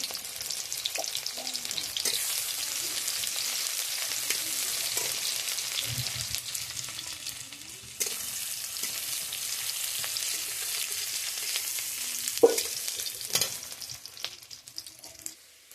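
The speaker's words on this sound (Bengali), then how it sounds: "এখন পেঁয়াজটা দিয়ে দেওয়া হলো।" Onions dropped into hot oil in a kadai wok hiss in a soft but steady sizzle, with a few sharp clatters of stirring scattered through.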